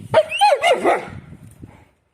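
A pet dog gives a few short, close yips and barks that trail into soft whimpering, loud at first and then fading into quiet.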